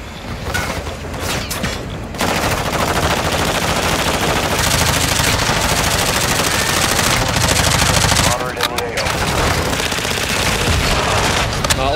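Sustained automatic weapon fire from a co-op shooter video game, dense and loud with rapid bursts and heavy booms running almost the whole time, briefly thinning near the end, while players talk over it.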